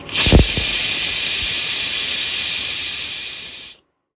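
A pressure cooker cooking dal lets out a loud, continuous steam hiss after a couple of brief knocks, then cuts off suddenly into silence.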